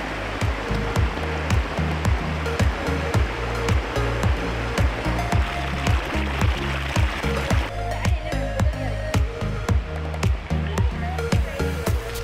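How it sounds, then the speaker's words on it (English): Waterfall in Shenandoah National Park in autumn, a constant loud rush of falling water heard up close, with a recurring pulsing beat over it and no talk. "This waterfall is actually so beautiful."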